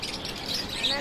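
Finches chirping at a busy bird market, quick high twittering calls layered over one another, moderately loud, with a voice talking in the background.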